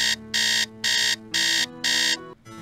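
An alarm clock in a Nancy Drew video game buzzes loudly in four evenly spaced harsh pulses, each lasting about a third of a second, with a low musical tone droning underneath.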